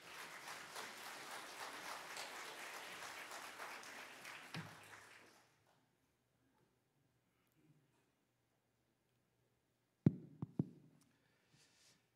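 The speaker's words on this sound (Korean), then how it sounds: "다시 한번 박수로 환영해 주시기 바랍니다" Soft, somewhat distant crowd applause in a church service for a few seconds, welcoming a pastor, then quiet with a couple of faint knocks.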